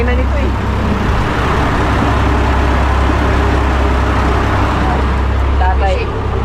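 A Mitsubishi engine on a fishing boat runs loud and steady, a dense low drone filling the whole span without pause, with voices faintly mixed in.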